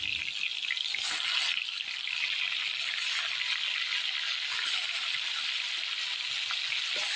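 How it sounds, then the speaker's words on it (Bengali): Koi fish sizzle and spit in hot oil, frying for a Bengali fish curry: a steady, close hiss of crackling bubbles running unbroken throughout with no talk. "মাছগুলা ভেজে নেব।"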